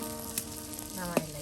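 Malabar spinach leaf fritters fry in oil in a village kitchen with a steady, moderate sizzle and crackle, broken by a brief utensil clink near the end.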